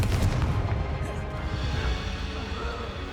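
Confringo explosive spell cast in the Hogwarts Legacy video game: a loud, booming blast with a rumbling tail that fades over a few seconds, with no talking over it.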